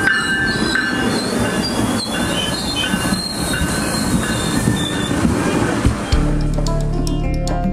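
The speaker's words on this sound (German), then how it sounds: "fahre ich mal mit dem Zug nach Toronto" A commuter train riding toward Toronto, loud and close, with constant rumbling wheels, rail clatter and high squeals, then shifting to a deeper steady hum near the end.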